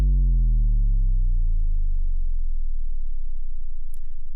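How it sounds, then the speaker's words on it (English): A distorted low sine-wave synth impact played on G -1 booms out as a deep, ground-shaking tone that slowly falls in pitch and sustains for several seconds, ending with a brief click. "So we got that nice ground shaking start to our impact"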